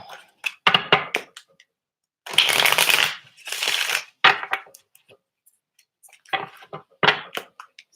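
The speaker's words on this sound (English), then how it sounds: "Let me shuffle." Tarot cards shuffled by hand in several close bursts, with rapid riffling and flicking, a longer continuous shuffle in the middle, and brief pauses between rounds.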